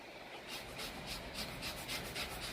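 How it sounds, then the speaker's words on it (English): A whole lemon is zested for a roast turkey butter, making soft, rhythmic rasping strokes, about a dozen quick scrapes in a row, faint and close, with no talking. "Now I've got 1 lemon. I'm going to go ahead and zest."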